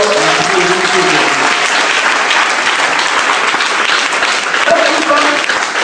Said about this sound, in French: Acclamons pour les vieilles femmes.